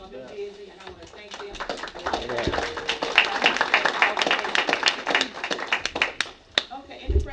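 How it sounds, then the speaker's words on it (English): Applause at a school board meeting: a crowd claps steadily in a dense, crackling patter, with people talking over it throughout. "I want to give y'all a round of applause"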